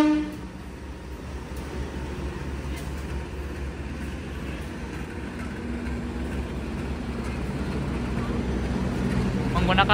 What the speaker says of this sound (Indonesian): Nah, ini masuk kereta api berantas dari Pasar Senen menuju ke Kediri.